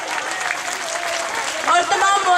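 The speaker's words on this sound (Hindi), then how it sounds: "बहुत सारी तालियां" An audience at a school camp event claps for students, a dense burst of applause with cheering voices rising near the end.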